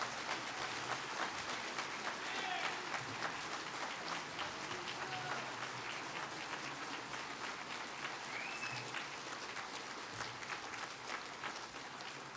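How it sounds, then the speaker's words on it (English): Audience applause for honorees at a patriotic luncheon, steady sustained clapping from a room full of people, even and fairly distant throughout. "How about a round of applause for our honorees?"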